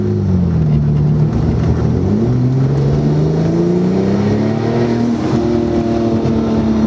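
A 2008 Porsche 997 911 Turbo engine revs up steadily, a loud, close, continuous growl rising and falling in pitch with no talking.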